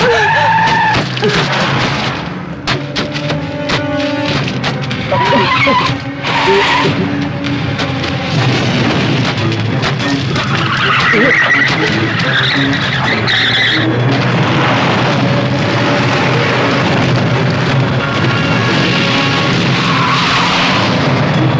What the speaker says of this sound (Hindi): जल्दी गाड़ी घुमाओ, गाड़ी निकालो, जल्दी निकालो